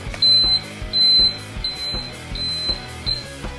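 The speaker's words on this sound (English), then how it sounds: "When you turn it on, an alarm will sound," Aznew Diesel H20 water alarm sounding on switch-on: a loud, high electronic beeping in a repeated rhythm of short tones, heard close up over a low background hum with no talk.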